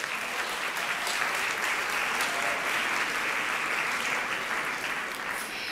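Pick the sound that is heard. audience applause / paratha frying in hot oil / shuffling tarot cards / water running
audience applause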